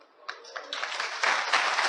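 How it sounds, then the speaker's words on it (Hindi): Applause from a crowd builds from scattered claps into steady, fuller clapping, growing louder toward the end. "ये तालियां इजहार करती है कि हम खुश हैं"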